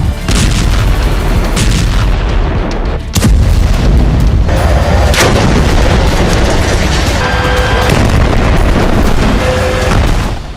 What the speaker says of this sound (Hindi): आईडीएफ वेस्ट बैंक के तमाम इलाकों पर गोला बारूद बरसा रही है, प्रचंड प्रहार कर रही है